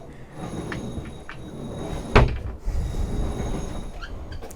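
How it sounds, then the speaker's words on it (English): Floorboards creak aboard a light, sporty C-Cat 48 cruising catamaran: one sharp creak with a knock near the middle, plus a few softer creaks over a steady low rumble of the boat. "Creaking on the floorboards is a little bit annoying"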